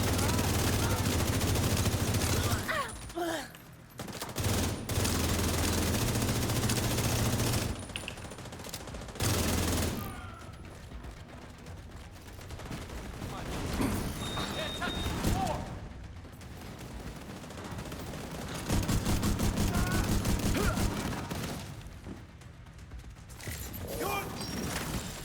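Pistol gunfire in a video game comes in repeated sharp bursts of shots with mechanical clicks between them, alternating with quieter stretches, and a voice talks over parts of it.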